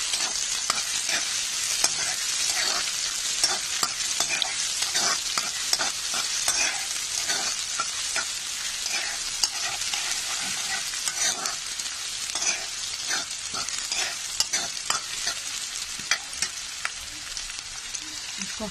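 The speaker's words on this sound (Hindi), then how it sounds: "अभी कांदा डाल देंगे, इसको भी फ्राई कर लेंगे।" Chopped onion fries in a pan during preparation of an okra and green peas bhaji, a constant bright sizzle with frequent scraping stir strokes close by.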